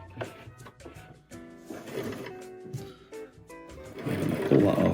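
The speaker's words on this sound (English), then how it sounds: "I'm just going to press down and hold down on the sewing machine" A sewing machine whirs in bursts, its motor buzzing and speeding up, getting louder toward the end, with no speech over it.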